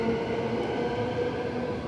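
Transperth suburban train at Perth station at night, a steady rumbling drone with humming tones, continuous and fairly loud for a brief moment.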